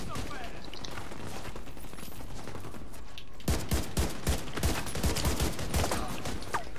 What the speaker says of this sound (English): I'm just shooting from across the thing here